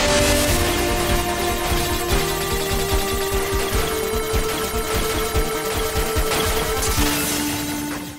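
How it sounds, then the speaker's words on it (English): An 8-bit chiptune rendition of a NieR Automata soundtrack piece plays alone with bright, steady square-wave tones and a pulsing low rhythm, loud and continuous throughout. "This track has an 8-bit version of it."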